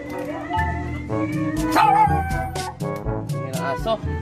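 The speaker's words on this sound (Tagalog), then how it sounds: "Yan ang aso." A household dog barks and howls close to a condenser microphone during a phone-recording test, with a cluster of yips and a rising howl mid-clip, moderately loud against a steady low hum.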